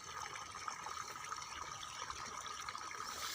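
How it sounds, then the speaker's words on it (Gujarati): Irrigation water flows from a channel into a field bed on a farm, giving a soft, continuous trickling and gushing wash that is faint and steady, with no voices heard. "ક્યારામાં પણ એક સરખું જ પાણી જાય છે"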